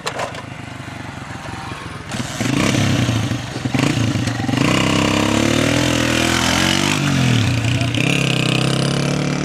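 A motorcycle engine runs loud and close beside a road, its steady harmonic drone rising and shifting in pitch as it revs, with voices talking over it throughout.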